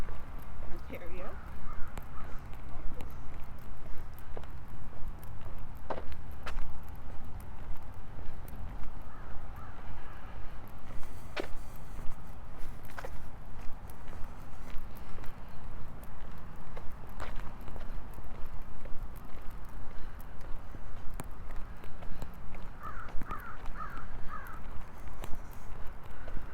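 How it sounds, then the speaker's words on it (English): Crow cawing somewhere overhead, a few distant calls rising over steady footsteps and outdoor ambience on a lakeside walking path by Grey Lake in Regina. "Crow has something to say up there somewhere."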